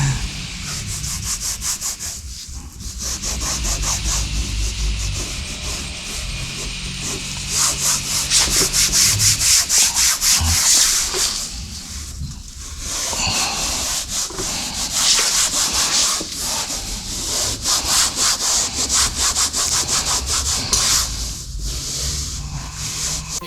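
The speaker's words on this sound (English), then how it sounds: "Here I am restoring the trim with the Cerakote Trim Restoration Wipes." Car trim being rubbed with Cerakote Ceramic Trim Restoration Wipes gives a steady, close scrubbing and rasping that goes on in long back-and-forth strokes with brief pauses. No one talks.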